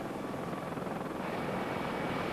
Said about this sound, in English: The Navy also flew in 2 Black Hawk helicopters carrying several tons of emergency relief supplies.